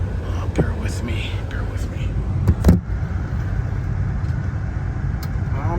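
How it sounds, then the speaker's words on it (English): A 2004 Hummer H2 on a test drive, with a steady low interior engine and road rumble, a few clunks and handling knocks, and faint whispering or talk inside the cab. "Let's go for a little test drive really quick here."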